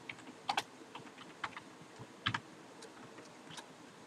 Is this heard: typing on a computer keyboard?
yes